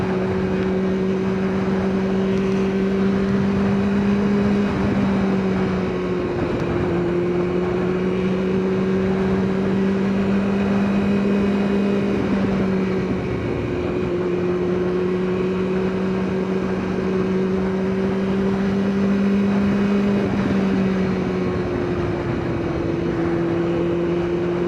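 A Kawasaki ZX9R sport motorcycle cruises down a UK motorway, its engine holding a steady droning hum that rises and dips slightly with throttle, mixed with constant wind roar and no talking.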